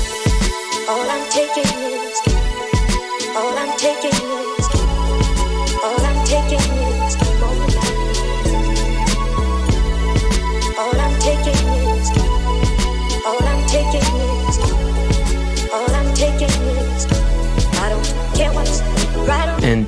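A looping drum beat with crisp hi-hats and a shaker laid over a melodic sample, steady rhythm with punchy low kicks, loud and continuous with no talking.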